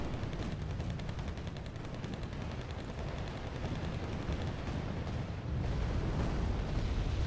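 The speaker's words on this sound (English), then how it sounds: "Oh, they're firing rockets." Rockets fire in Wargame Red Dragon amid a dense, continuous roar of rapid blasts and gunfire, loud and unbroken, with explosions piling into a thick rumbling barrage.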